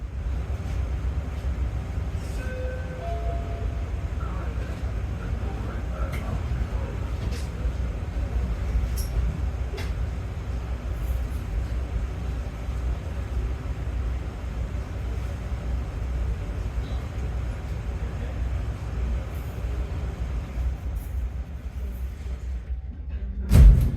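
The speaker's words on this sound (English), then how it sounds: "The train departed 1 minute late at 10:41 a.m." Inside a Metra BNSF Line commuter train pulling out toward Belmont, a steady low rumble and rolling drone with faint metallic creaks and clicks, continuous and even throughout, ending in a brief louder bump.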